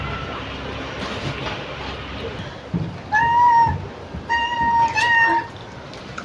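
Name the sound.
cat meowing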